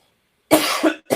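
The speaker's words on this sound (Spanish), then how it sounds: "me agarró tos." A person coughs, one strong cough followed by a shorter second and the start of a third, close and loud against silence.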